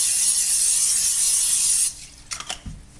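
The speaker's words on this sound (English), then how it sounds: "so we'll just do a little bit of spraying." Olive oil is sprayed onto a roasting pan for beef brisket, a steady loud hiss lasting nearly two seconds, followed by a few soft clinks and handling noises.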